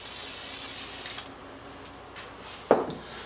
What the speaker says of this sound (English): And I spray the belt.